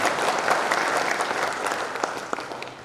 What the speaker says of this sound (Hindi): एक बार जोरदार तालियां जनाब हुज़ैफी खान साहब के लिए।